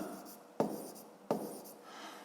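Pen writing on paper while working a fifth-grade maths exercise, two sharp quick strokes against a quiet room, soft and close.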